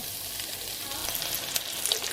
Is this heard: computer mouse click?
no